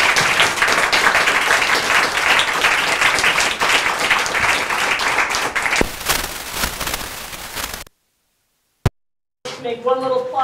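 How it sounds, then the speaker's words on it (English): A panel discussion on free public transit in Seattle closes with a loud, dense round of audience applause that carries on for several seconds. It thins out, breaks off into near silence with a single sharp tap, and a voice then begins speaking. "let's give another round of applause to"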